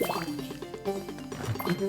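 Watering plants in the Speech Bound video game: trickling, splashing liquid with small drips and light clinks in a quick irregular pattern, fairly close and clear.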